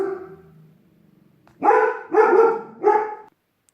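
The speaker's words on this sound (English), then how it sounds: "my dogs are really, really unsettled" Three loud, close barks from more than one dog in a knitting podcaster's home, each lasting about half a second with brief gaps, following a quieter whimpering stretch.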